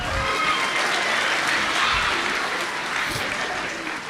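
Dense, sustained applause from an audience at a sixth-grade school band concert, a steady wash of many hands clapping without a break, fairly close and loud.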